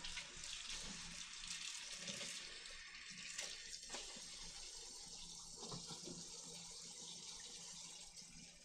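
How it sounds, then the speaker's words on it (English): Water runs steadily from a tap, filling a container for acid dyeing, a continuous close rushing splash with no voices. "We're going to add some water and some acid."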